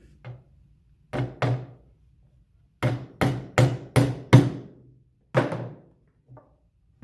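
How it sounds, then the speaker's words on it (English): Hammer strikes driving a nail into wooden birdhouse pieces, heard as a rapid burst of sharp, close knocks clustered in a quick run, with a few scattered single blows before and after. "now we're hammering in the nail that will attach it to the front"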